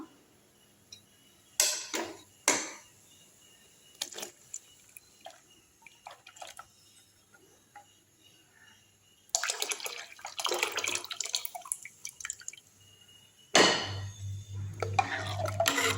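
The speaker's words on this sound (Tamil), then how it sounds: "தண்ணி கொதி வந்துருச்சு இப்போ மாவு வந்து எடுத்து அப்படியே ஊற்றிக்கலாம்" Ground rice batter made from ration parboiled rice, poured into a pot of boiling water for murukku vathal, gives two bursts of splashing and bubbling, each a few seconds long. Fainter clinks and drips come before them.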